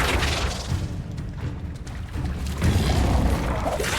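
A rapid chain of Incendio, Confringo and Flipendo spell casts in the Hogwarts Legacy video game, rendered as heavy booms and crackling blasts, loud and close, repeating over continuous battle noise.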